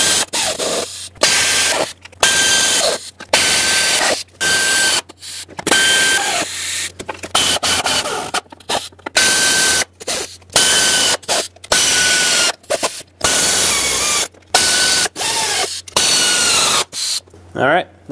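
A ratchet snugs down bolts on the VVT solenoid of a 2008-2010 Ford F-250 with the 5.4L engine, giving repeated bursts of quick clicking and whirring. Short pauses separate the bursts, and the sound is close and loud.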